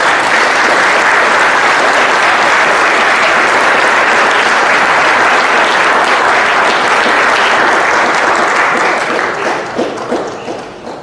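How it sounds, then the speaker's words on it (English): Loud, sustained applause from a banquet audience at a high school football banquet, dense clapping from a large crowd that holds steady before tapering off near the end. "I think it's fitting that we give all those folks a big round of applause."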